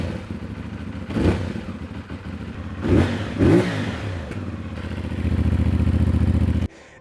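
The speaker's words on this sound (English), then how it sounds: "This is an exhaust that Yoshimura makes for the 450SS" A 2023 CFMOTO 450SS motorcycle with a Yoshimura aftermarket exhaust idles with a throaty note, blipping the throttle in a few sharp revs, then holding a louder steady rumble before cutting off.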